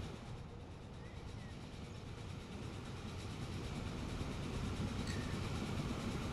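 A train in the rail simulation game Transport Fever rolls through as a faint, steady low rumble with light rail noise that slowly swells, no speech.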